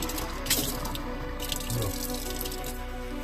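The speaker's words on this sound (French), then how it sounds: "Fais couler de l'eau chaude." Hot water runs steadily from a tap into a sink, a constant close hiss and splash with faint drips, no talking.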